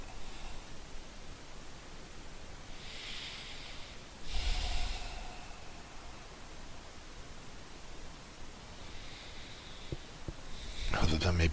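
Soft breathing and occasional snort-like inhalations during a quiet Reiki healing meditation, faint and close over a steady hiss, with a few louder breaths standing out.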